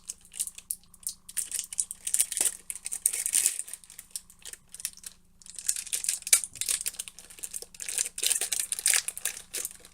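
Plastic packaging for a charity red nose being torn and crinkled open by hand, a close, continuous rustle and crackle in two long bursts separated by a brief pause.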